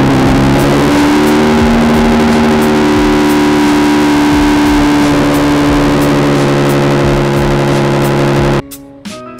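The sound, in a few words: loud car engine cold start, headers and mufflers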